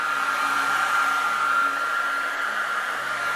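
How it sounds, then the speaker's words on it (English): A hair dryer blows on a whitetail deer taxidermy mount with a steady, loud whir and a low motor hum, running continuously without a break. "to help that dry and eliminate any sheen, hair dryer."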